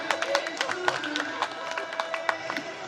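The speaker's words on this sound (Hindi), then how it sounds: "बजाओ ताली" An audience claps at a Hindi comic poetry recital, with scattered, uneven claps layered over crowd murmur and a voice speaking throughout.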